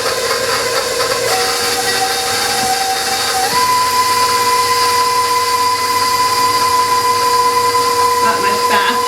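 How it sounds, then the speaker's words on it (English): An electric mixer beats pumpkin batter at medium speed with a steady mechanical whine. Its pitch steps up partway through, then holds constant, fairly loud and close. "I'm going to mix that, get my directions out here, for 3 minutes at medium speed until it's blended."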